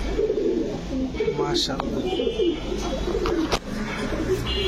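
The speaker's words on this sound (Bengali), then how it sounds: "দেখেন পুরো বিপজ্জনক একটা কবুতর কিন্তু এটা।" Pigeon at a Bangladeshi loft cooing in soft low bursts close by, under steady talking and faint background noise.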